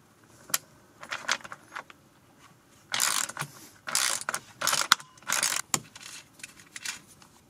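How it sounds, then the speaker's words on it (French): Lidl Powerfix ratchet wrench with a 14 mm socket unscrewing, rapid clicking ratchet bursts that alternate with pauses and sharp metallic taps, close and clear. "Je mets une douille de 14 mm pour dévisser."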